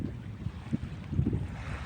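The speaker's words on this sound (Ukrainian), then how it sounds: "Вітерець сьогодні е, тому хвилі хвилі е, трохи." Light wind and small waves move on open water in Denmark, with a steady low rumbling wash, soft lapping pulses and faint microphone wind noise throughout, and no voices.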